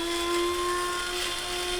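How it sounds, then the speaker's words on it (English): A cleaned coffee grinder blitzes sushi nori sheets into seaweed powder, a steady, even whirring motor whine with a high-pitched tone that holds throughout without a break. "it's just literally sushi nori sheets in a coffee grinder which I've cleaned"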